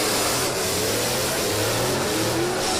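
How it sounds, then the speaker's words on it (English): A drift car with its whole exhaust removed revs loudly during a drift competition final, a raw, continuous, saturated roar with a rising and falling engine note and no talk over it. "They've took the whole exhaust off his car."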